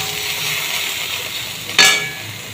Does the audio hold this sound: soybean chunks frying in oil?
yes